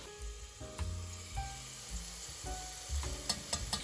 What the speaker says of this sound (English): Now that the oil is heating up, let's add some minced garlic.